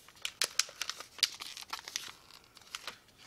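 Close crinkling and tearing of a thin foil pack being ripped open, a quick run of sharp rustles and crackles that come unevenly before fading to lighter crinkles.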